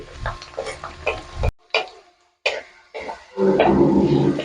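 Chopped ginger and garlic cook in a pan for homemade rambutan pickle. Intermittent stirring and clatter come first, separated by brief silences, then a loud, steady sizzle builds toward the end.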